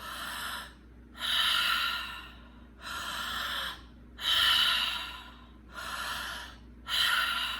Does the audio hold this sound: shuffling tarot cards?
no